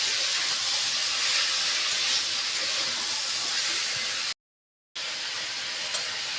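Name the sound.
spice masala being sautéed in a pan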